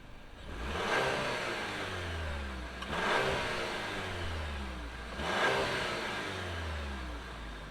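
A 2024 Chevrolet Traverse with a 4-cylinder turbo engine running: three rising-and-falling revving swells at moderate distance, the engine settling between each, with no talking.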